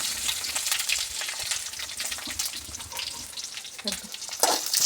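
Garlic and dried red chillies fry in hot oil in a pan while being stirred, giving a steady close sizzle with scraping stir sounds throughout and no talking.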